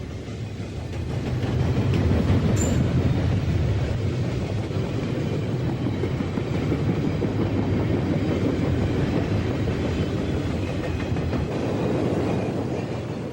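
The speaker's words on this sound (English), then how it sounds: "we're surprised by one more westbound intermodal train" A westbound double-stack intermodal freight train rolls along Conrail's Pittsburgh Line with a loud, steady rumble and rail noise that persists throughout.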